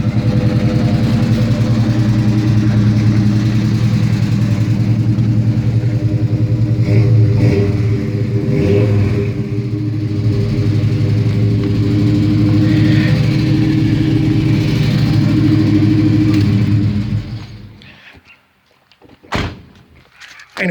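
A 1984 Chevy Silverado C10 pickup engine runs steadily with a ticking exhaust leak, a loud, even drone lasting about seventeen seconds before it cuts off, followed by a few clunks and thuds.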